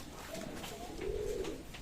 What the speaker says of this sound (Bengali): চমৎকার কবুতর